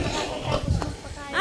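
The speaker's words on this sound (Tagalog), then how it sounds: "Nagugutom yung mga baboy." Hungry pet pigs at a rural home in Calatagan, Batangas, grunt and squeal nearby in a brief burst, mixed with people talking over them.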